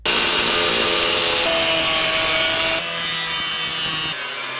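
The floor of a Scion FR-S being converted into a drift car is cut for a shifter hole. A loud, close, continuous rasping cut runs without pause, and its tone shifts a couple of times as the cut goes on.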